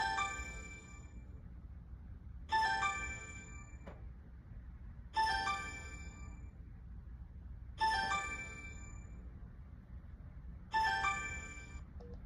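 A telephone rings in five evenly spaced bursts about every two and a half seconds, each a bright trilling electronic ring over a low steady background hum, at moderate level with no talk.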